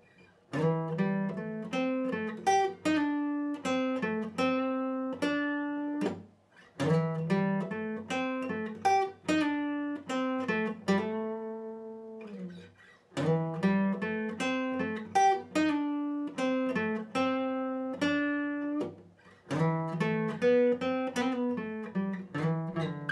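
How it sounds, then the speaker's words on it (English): An acoustic guitar plays the intro of a song at full speed: rhythmic strummed chords with bass notes, a brief sparse passage mid-way, then the pattern repeats, close and clear with no talk. "to run through the introduction one time in real speed will sound like this"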